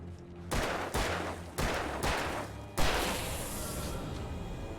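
Gunfire in the Alan Wake video game: several loud, sharp shots in a quick, uneven volley, each a hard crack. A heavier blast follows and rings out into a lingering tail.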